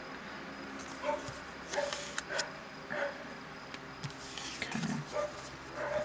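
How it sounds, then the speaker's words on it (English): Several dogs bark and yip outdoors at a distance, in repeated short bursts spread across the moment, fairly faint behind a quiet room where a person briefly speaks. "Just gonna pretend that we don't hear those dogs barking."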